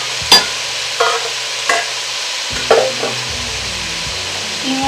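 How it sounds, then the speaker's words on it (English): About three ribs of diced celery sizzle steadily in a pot while a spoon stirs them, with several distinct scrapes and knocks over the frying. "give it a stir, just to mix it around a little bit"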